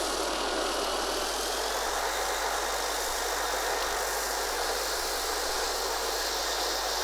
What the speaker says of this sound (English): The Chinook's beautifully modelled, and as you can hear, that is also jet powered